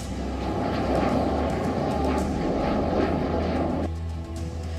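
Twin-engine MiG-29 jet fighter aircraft roaring steadily and loud throughout, a dense continuous engine rumble that drops slightly in intensity near the end.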